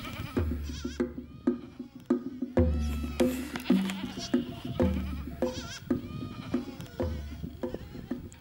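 Goats bleat again and again at a Himba homestead in Namibia, several loud, wavering calls overlapping one another close by, with no talk.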